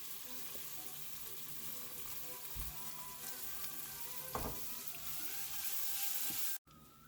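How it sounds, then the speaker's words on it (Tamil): Steady sizzling of finely chopped onions frying in hot oil for a prawn gravy fills the clip, with a few soft stirring knocks, close and continuous before cutting off. "அடுத்ததாக நம்ம பொடியாக நறுக்கி வச்சுருந்த ஆனியன் சேர்த்துக்கலாம்"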